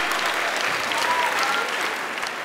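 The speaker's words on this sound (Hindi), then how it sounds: "आप लोग जोरदार तालियां बजाइए" An audience at a Hindi and Urdu poetry gathering in Lucknow bursts into sustained applause, a thick, continuous wash of clapping heard at a moderate distance.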